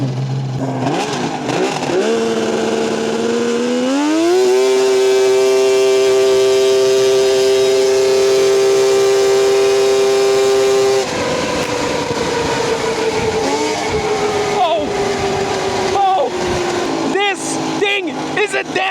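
A big block two-stroke race mower engine revs up loud and close, its pitch climbing in steps to a high sustained scream, then falling away as it slows and sputters.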